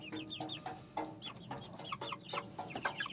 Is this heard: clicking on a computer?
no